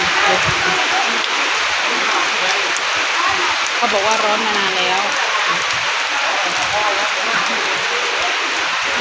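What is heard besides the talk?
heavy rain falling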